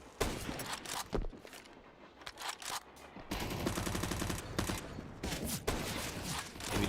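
Counter-Strike gunfire, with snipers in play during an esports match, comes as a dense string of loud, sharp shots. Bursts and single cracks follow close together, and a few short pauses break up the rapid firing.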